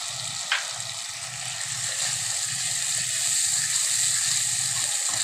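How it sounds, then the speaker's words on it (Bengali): Potatoes, spices and raisins fry in oil in a pan for malai aloo, a steady bright sizzle with a soft rhythmic scraping of stirring underneath and one brief clink near the start. "একটু ভেজে নিচ্ছি আমি"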